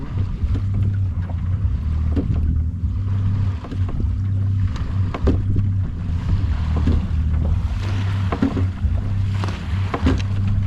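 Choppy motorboat wake slapping against the hull of a sixty-year-old cabin Omega sailboat, a steady low wash with repeated thuds, mixed with wind buffeting the microphone throughout.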